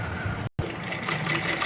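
A pedal-operated sewing machine stitching cloth during a tailoring class: a steady, close, continuous mechanical whirr that breaks off for a split second and then resumes.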